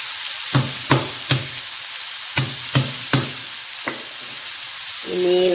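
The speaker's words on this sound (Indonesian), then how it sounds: "Ini ditumis sampai harum aromanya." Ground spices sautéing in a pan for an Indonesian cassava leaf gulai, a steady soft sizzle punctuated by about eight sharp spatula scrapes and taps, close up with no talking.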